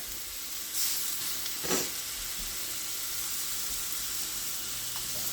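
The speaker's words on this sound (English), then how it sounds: "we're gonna sear these 1 minute on each side" Meat searing in a hot pan with rosemary gives a steady, moderate sizzle and fry hiss throughout, with a couple of brief louder bursts near the start.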